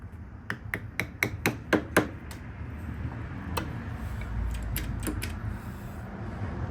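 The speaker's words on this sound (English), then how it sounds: "Just use a flathead screwdriver and a hammer." A hammer strikes a flathead screwdriver to bend back a lock washer on a Yamaha Raptor 700 ATV: about eight sharp metallic taps in quick succession, then a few more scattered hits, close and loud.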